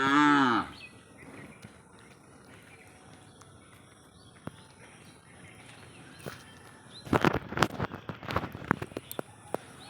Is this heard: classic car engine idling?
no